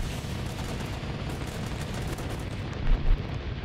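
Dense, continuous gunfire and rocket blasts from the video game Guns Up blur into a steady rumbling roar, with a couple of louder booms near the end.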